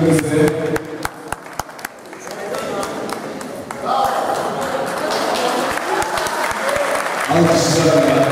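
An audience at an Ankara youth men's league cup ceremony applauds the coach, with scattered claps at first swelling into steady crowd clapping and cheering under a voice on the public address.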